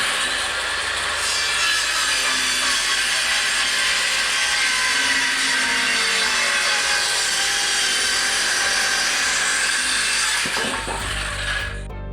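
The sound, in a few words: sawing a wooden board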